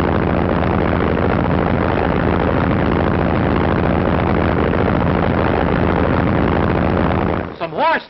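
A giant bomber's engines drone loudly and continuously during a parachute jump, a dense low roar that fades out at the end, with someone narrating over it.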